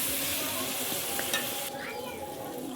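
Onions and turmeric sizzle steadily in a hot pan for a chicken curry, with a spatula stirring and scraping through the frying, close and continuous.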